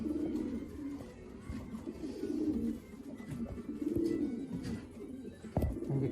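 Pigeons coo from inside a backyard loft with low, soft, repeated murmuring calls that overlap at close range, along with a few faint rustles and one sharp knock near the end.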